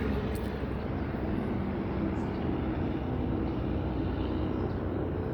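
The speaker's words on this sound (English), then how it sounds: "amplifying helicopter activity" Steady, continuous low rumble of a helicopter flying over near an apartment, holding at an even moderate loudness throughout with no pauses or talk.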